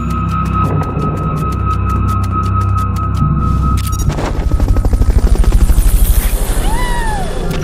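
A helicopter in Metal Gear Solid: Peace Walker drones loudly and steadily, and its rotor chop grows into a pronounced rhythmic pulse partway through. Other game sounds and tones mix in over it.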